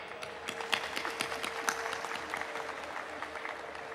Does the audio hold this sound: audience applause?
yes